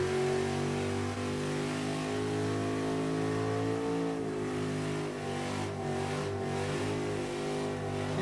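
A shuddering Chevy holds a loud, sustained rev during a Summernats burnout elimination, its engine droning steadily with strong harmonic tone, dipping slightly in pitch midway.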